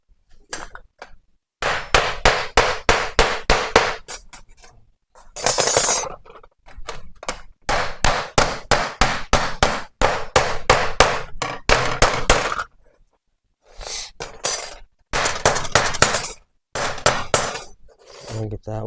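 A hammer pounds a metal frame to straighten it, with rapid, loud metallic blows in long bursts separated by short pauses, close and ringing.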